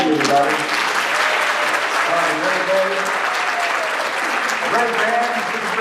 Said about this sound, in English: Big round of applause for the band.